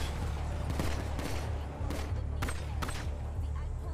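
Rapid bursts of video game gunfire in a crime-themed game crackle repeatedly over a steady engine-like drone, mixed with other game sounds.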